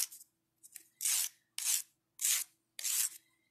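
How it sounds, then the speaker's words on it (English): A sandpaper stick rasps over the edges of a gem bracelet in several short, even strokes, close and crisp, separated by brief pauses. "Just run the sandpaper over."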